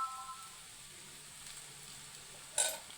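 Egg rice frying on a gas stove as cooked rice goes into the pan, a soft, steady sizzle that stays low and continuous, then a brief, louder scrape or clatter near the end.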